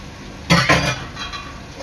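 Crab meat stirred into an oily masala in a pan, giving two close scraping clinks of a utensil against metal followed by softer stirring.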